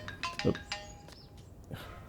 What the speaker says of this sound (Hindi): अरे फोन भी आ गया